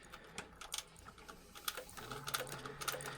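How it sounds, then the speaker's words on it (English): Sewing machine top stitching a bag at an eighth of an inch, faint rapid clicking stitches in short irregular bursts over a low room hum. "I'll be sewing a 1/8 of an inch top stitch."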